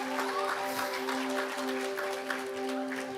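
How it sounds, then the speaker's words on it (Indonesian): Applause fills a charity concert hall, a dense, steady wash of clapping from the audience with a sustained tonal hum running underneath throughout. "Boleh tepuk tangannya teman-teman semua."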